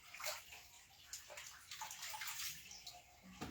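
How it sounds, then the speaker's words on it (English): Running water splashes and gurgles as cucumbers are rinsed before pickling and canning, a soft steady wash with brief sloshing swells, heard close and quiet with no voices. "I'm just rinsing them off. Rinsing them off real good."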